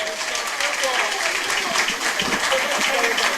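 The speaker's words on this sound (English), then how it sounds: "Let's give Mr. Sribwa a round of applause." Audience applause at a political engagement event with NDC flagbearer John Mahama, a steady broadband patter of clapping lasting a few seconds, fairly loud and continuous with a voice faintly mixed in.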